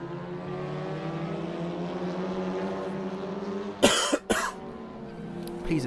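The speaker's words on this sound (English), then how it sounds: "Please excuse the coughing." A motor racing commentator coughs twice in quick succession, loud and close, over the steady drone of race car engines.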